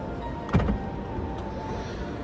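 A steady mechanical whir of a 2022 DS 9 Performance Line+ electric motor closing a window or roof, with a faint click near the start.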